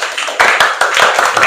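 Schoolchildren in an Indonesian classroom clap in a burst of applause for a group, a dense, loud patter of many hands with a few stronger peaks, lasting only a moment.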